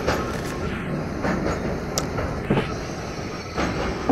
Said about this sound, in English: We're on an actual train now